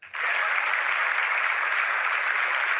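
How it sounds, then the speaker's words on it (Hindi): Hall audience at an Amway talk bursts into loud applause, a dense, even roar of clapping that starts abruptly and holds steady without a break. "इनके लिए जोरदार तालियां"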